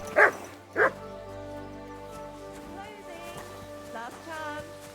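Two short, loud dog barks from a dog in the medieval video game Kingdom Come: Deliverance II, ringing out near the start, followed by game ambience and a voice speaking.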